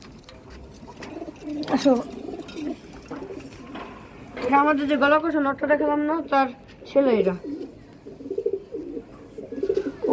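Pigeons in a home loft coo in repeated warbling phrases, close and fairly loud, with people talking over and between the calls.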